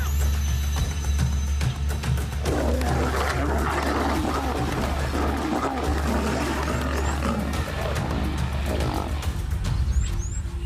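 A lioness growls in a brief fight, low rough rumbling growls running steadily through the whole stretch over a dense wild outdoor background.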